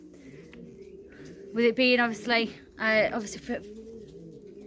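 Racing pigeons coo softly nearby at a loft after a tough club race, low murmuring calls running beneath someone talking.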